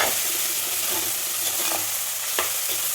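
Onions and green chillies sautéing in a pan for a ladies finger curry give a steady sizzle with a few spoon scrapes and light clinks, close and moderately loud.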